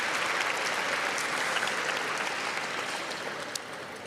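An audience in Cleveland's Public Auditorium gives a round of applause for a reverend after an invocation at the mayor's State of the City address; dense clapping stays strong, then thins slightly toward the end.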